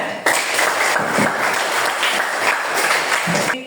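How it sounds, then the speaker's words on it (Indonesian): A classroom of students applauds for a teacher during an Islamic religious education lesson, a steady, dense wash of many hands clapping together for about three seconds, close and even, with no talk over it. "Oke, tepuk tangan."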